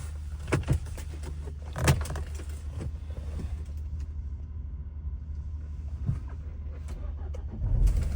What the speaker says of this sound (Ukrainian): Запустимо, покажемо, як працює двигунчик